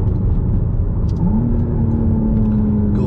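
McLaren Artura engine pulling hard under acceleration, a steady near whir that climbs in pitch through the run with no talking.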